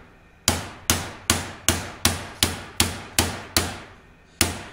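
A hammer strikes sheet metal, rolling over the edge of a rear floorpan on a 1967 Kaiser Jeep M715: nine loud, ringing metallic blows at a steady, unhurried rhythm, close up, with no talking.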